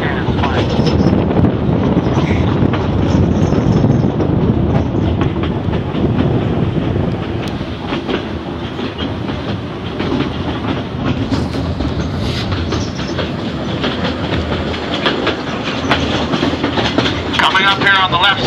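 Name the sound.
narrow gauge railroad train running on the Cripple Creek & Victor line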